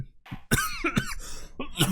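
Several sharp coughs and throat-clearing bursts from a single voice in a courtroom scene of an Ace Attorney game, close and loud, in an irregular cluster of about four.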